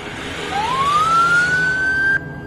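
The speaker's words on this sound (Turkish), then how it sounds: "Aç sirenlerin sesini" An emergency vehicle siren wails as one rising tone that climbs and holds over low traffic rumble, then cuts off abruptly, during a chase past a bus in a Turkish TV drama.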